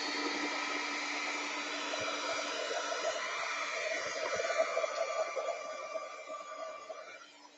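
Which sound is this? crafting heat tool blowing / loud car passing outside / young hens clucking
crafting heat tool blowing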